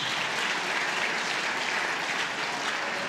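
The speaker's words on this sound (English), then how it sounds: "let's give him another round of applause." A studio audience at a stage show with Vernon Kay claps in a dense, steady round of applause that stays loud and even throughout, with no voices over it.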